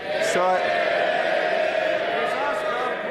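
MPs in the House of Commons chamber raise a loud, sustained crowd cheer and jeering, a dense roar of many voices with a few whoops standing out.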